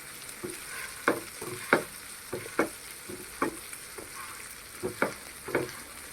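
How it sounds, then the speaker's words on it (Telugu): A metal masher pressing into fried green peas in a pan, giving a series of separate soft squishing, scraping thumps about every half second, fairly close, with no talking. "ఇప్పుడైతే ఈ మ్యాషర్ తీసుకొని కొన్ని వాటిని ఇలాగా మ్యాష్ చేసుకుందాము"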